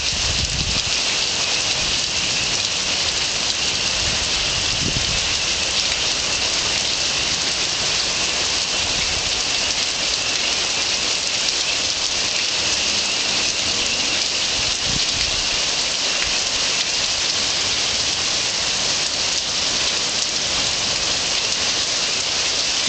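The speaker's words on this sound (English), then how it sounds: "And the rain's coming down harder." Heavy rain pours down in a steady, dense hiss, loud and close, with no voices and no break in the downpour.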